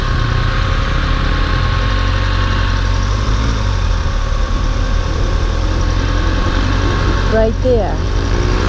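A Honda CBR 250 motorcycle engine hums steadily nearby, a continuous idling drone that holds throughout, with people talking briefly over it near the end.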